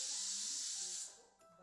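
A loud, steady hiss of escaping steam, like a pressure cooker letting off pressure, fading after about a second.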